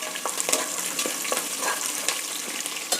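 Curry leaves and crushed garlic frying in hot oil, a dense crackling sizzle with sputtering pops and occasional stirring, close and loud throughout the short stretch with no voices.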